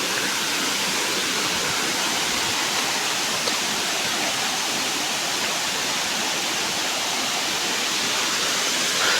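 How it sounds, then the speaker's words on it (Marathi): Chirekhan waterfall near Natal village pours steadily with a loud, unbroken rushing roar of falling water that holds the same level from start to finish, with no voices. "आपलं चिरेखानचा धबधबो बघा."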